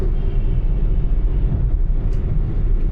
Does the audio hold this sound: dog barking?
no